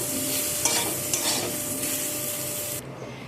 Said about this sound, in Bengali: লবণ আর হলুদ গুঁড়ো দিয়ে এঁচড়টাকে আমি ভালো করে একটু নেড়ে নেব।